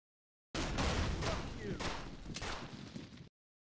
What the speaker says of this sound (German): Kein sonderlich starker Granatwerfer, so viel steht fest. Aber der explodiert bei Kontakt.